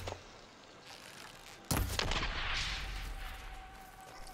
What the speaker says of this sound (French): C'est une bombe.